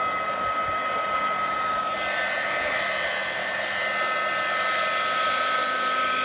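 Heat tool warming epoxy resin before mixing with a craft stick, giving a steady, close, continuous blowing whir like a hair dryer, with no talk.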